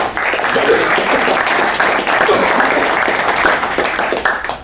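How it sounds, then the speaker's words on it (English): A large audience applauds steadily, the clapping loud and dense without a break. "please give them a big round of applause again"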